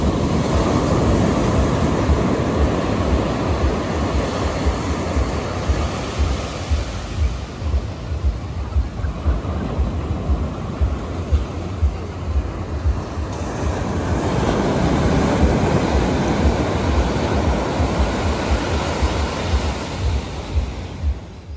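Surf rolls in on Benaulim Beach in South Goa, a loud and constant wash of breaking waves with rough wind buffeting the microphone and swells that rise and fall.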